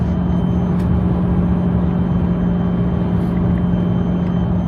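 A Dodge SRT car being driven, a steady low engine drone and road rumble heard from inside the cabin, constant and unbroken, with no talking.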